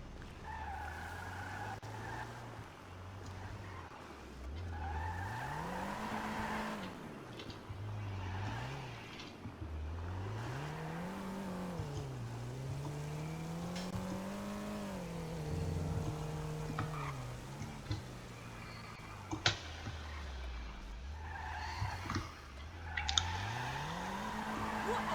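A car driven in the MINDCITY roleplay video game revs up and down through repeated rising and falling engine sweeps, with occasional tire squeals and clicks, fairly faint and steady throughout without speech.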